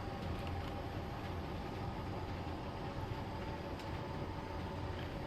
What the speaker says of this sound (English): I'm going to do is park the BC rail onto the main next to the passing siding